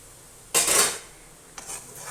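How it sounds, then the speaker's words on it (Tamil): Flour roasts in ghee in a pan for Ashoka halwa, with two scraping stirring strokes, one longer and louder, then a softer one, close by and without talk. "இப்போ இதே நெய்யில் மாவை வறுத்துக்கலாம்."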